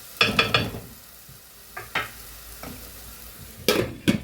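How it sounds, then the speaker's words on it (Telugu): Masala frying in a pan with eggplant and tomato is stirred in a few sharp, close scraping strokes over a low sizzle, with short quiet gaps between them. "అలాగే కొంచెం మసాలా కూడా ఫ్రై అవుతుంది అన్నమాట"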